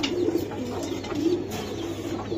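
Silver pigeons coo close by in a low, rolling rhythm, the soft throaty calls repeating through a loud, steady background hum.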